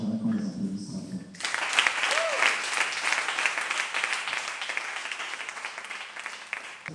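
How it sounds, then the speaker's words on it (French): Audience applause at a concert, beginning abruptly after a brief opening stretch of speech and settling into steady, dense clapping from the crowd, moderately loud and sustained to the end. "j'aimerais qu'on les applaudisse très fort"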